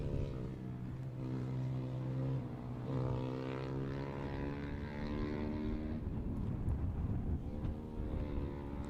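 Junior Supermoto 140 motorcycles at a Mini GP race meeting in Teesside pull out onto the race track, their small engines blending into a steady, loud droning whine that shifts pitch slightly as they roll away.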